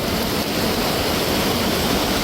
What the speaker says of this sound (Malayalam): ആ കല്ലെല്ലാം മൂടി വെള്ളം കൂടിക്കൊണ്ടിരിക്കുകയാണ്